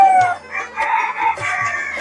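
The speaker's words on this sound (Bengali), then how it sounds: "অরিজিনাল জাতের একটানা 18 মাস ডিম পাড়া মিশরীয় ফার্মি মুরগি" Egyptian Fayoumi hens at laying age cluck steadily at close range while a rooster crows over them, a busy layered farmyard chorus with no talking.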